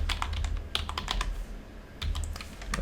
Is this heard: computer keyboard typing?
yes